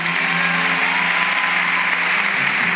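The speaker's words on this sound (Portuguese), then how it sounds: "Aplauda Jesus." A church congregation applauds at a Portuguese-language sermon, with steady, dense, loud clapping throughout and a faint sustained musical tone underneath.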